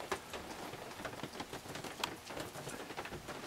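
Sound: rain falling

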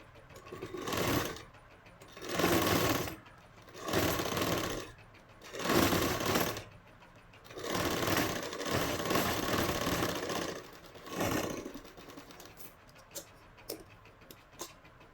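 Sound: sewing machine stitching a blouse

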